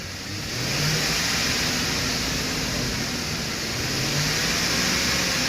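A Ford F150 with the 4.6L V8, under repair for a lower intake manifold gasket, runs steadily nearby, its engine note rising slightly as it is revved, heard alone without talk.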